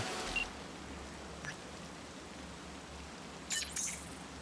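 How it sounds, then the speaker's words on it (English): Steady soft rainfall in the night-city world of the video game Cyberpunk 2077, a faint continuous hiss with a few brief louder patters, no talk. "instead here it is just raining"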